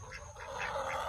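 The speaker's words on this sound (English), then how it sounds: "Quack, quack, quack, quack." Ducks in a backyard pen near a flooded area quack faintly, about four quacks in an even rhythm over a low background rumble.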